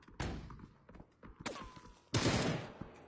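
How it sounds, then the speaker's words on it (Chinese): Grenade blasts in the PUBG video game, two or three sharp explosive bursts with rumbling tails, the last one loudest, over faint game ambience. "再一颗手雷，看一下这个手雷的威力"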